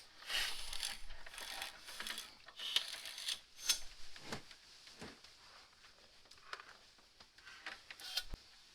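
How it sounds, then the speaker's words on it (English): Metal clicks and ratcheting from a bracket being unbolted under a C3 Corvette, the mount that held a power steering hydraulic cylinder; the sharp taps and rattles come in irregular bursts up close, with no talking. "I'm gonna remove this bracket that the hydraulic cylinder was mounted on, just to get it out of my way before I get into the steering box."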